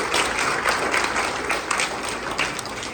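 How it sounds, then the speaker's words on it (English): Supporters at a political campaign kick-off give a round of applause, a loud, close, continuous burst of many hands clapping that fills the room without pause. "give a round of applause for Orrin"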